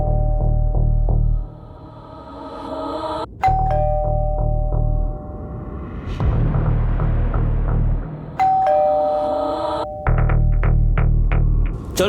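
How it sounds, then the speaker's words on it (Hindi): A doorbell rings out in a two-tone ding-dong, chiming twice with a pause between, clear and fairly loud over a low steady hum in an indoor home setting during a crime drama scene. "बस डोरबेल बजी।"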